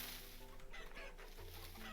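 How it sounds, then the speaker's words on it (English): A chicken clucks in the video game Vintage Story, a short run of quiet, close clucks over a low steady background hum, with no voices. "I hear a chicken."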